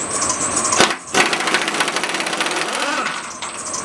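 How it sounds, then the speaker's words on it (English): A power tool pulls bolts from a Western snow plow with a loud, close, continuous rattling hammer that cuts out for a moment, then resumes and runs steadily. "let's see if Aaron can pull these bolts out."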